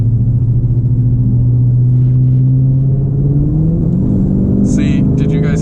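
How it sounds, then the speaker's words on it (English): A Dodge Charger R/T with a Whipple supercharger drones loudly at low pitch, its engine note rising into a surge as boost builds, with a faint whine edging in near the end. "You could kind of hear the supercharger whistling a little bit."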